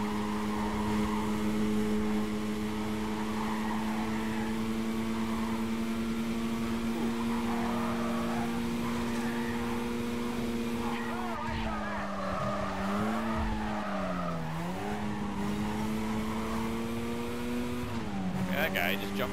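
Race cars in Need for Speed: Carbon hold a steady, droning engine tone that rises and dips with gear changes and revving, loud and continuous throughout with a few tire squeals, under occasional talk.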